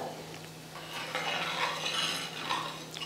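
A spoon scrapes and swirls through buttermilk curry in a metal pot, soft clinks against the metal over a faint background hum.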